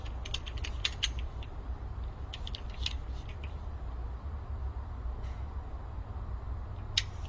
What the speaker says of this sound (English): I'm torquing down these bolts 29 foot-pound.